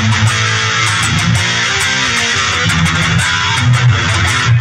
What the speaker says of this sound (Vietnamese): Thứ hai là blue và distortion.